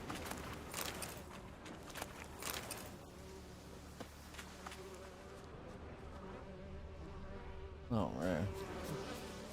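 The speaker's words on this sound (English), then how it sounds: "I can hear the buzzing." Insects buzz steadily through a game world in The Witcher 3, a continuous drone under a short spoken exclamation, with a louder burst of movement near the end.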